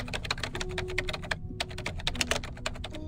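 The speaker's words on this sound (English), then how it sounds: "Beneath a crescendo of keystrokes and mouse movements, Noir's pointer shifts video segments from one track to another." Fast keyboard typing with scattered mouse clicks fills a computer scene in the game Reverse: 1999, a dense run of close, crisp keystrokes with one brief pause midway.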